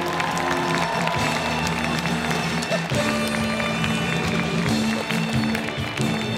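Audience at a public event on stage applauds and cheers, a dense continuous wash of clapping and crowd noise holding steady at fairly close range throughout.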